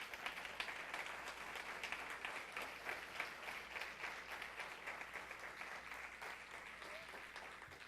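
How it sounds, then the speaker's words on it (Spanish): Congregation applauding the Lord during a church sermon, steady dense clapping from many hands throughout, moderately distant and even, with no voices standing out. "Denle un aplauso al Señor."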